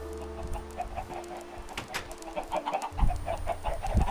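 Chickens clucking in a Minecraft survival game, with several short, soft clucks scattered over a busy background of game sounds.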